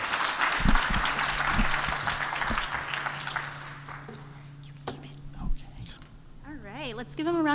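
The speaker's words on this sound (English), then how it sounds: "Let's give them a round of applause" Audience applause at a university showcase event, a burst of clapping that fades after a few seconds into quieter room noise and scattered claps, with some talking near the end.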